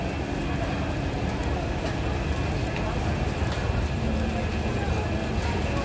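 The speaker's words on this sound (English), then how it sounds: "It's raining." Steady, dense hiss of rain falls across an open street in Shibuya, Tokyo, with faint traffic rumble underneath and occasional soft ticks of drops close by.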